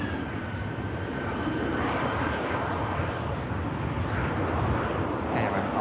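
An Airbus A330 airliner comes in to land, a steady, fairly loud engine roar with a faint rising whine, and a voice speaking over part of it.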